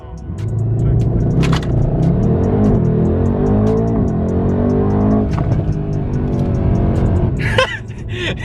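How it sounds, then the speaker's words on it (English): A 700-horsepower Mercedes E63S AMG launches hard from a standstill at a drag strip, its engine roaring loud and close as it climbs through rising gear pulls with brief shift breaks. "This car launches so damn hard."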